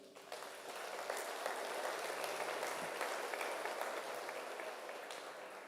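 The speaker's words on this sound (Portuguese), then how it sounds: "Vamos aplaudir Jesus?" Church congregation applauding for Jesus during a sermon, a steady wash of clapping from many hands at moderate distance, sustained throughout without voices.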